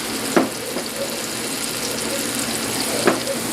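Onions sizzle in oil in a hot wok, a steady broadband frying hiss with a couple of brief louder crackles, close and alone with no talking.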